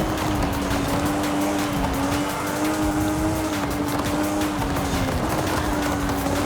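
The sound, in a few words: Nissan Silvia S15 braking with tire squeal, video game Forza Horizon 5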